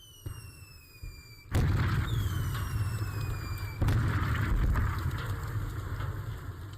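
Artillery shells in a war film pound a valley in heavy, booming blasts, two sharp impacts followed by rumbling crackle and debris, with high whistling tones sliding overhead before and between the hits.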